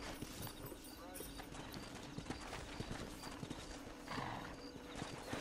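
Horse hooves clip-clop steadily while a horse whinnies in Red Dead Redemption, with a busy outdoor backdrop and voices mixed in.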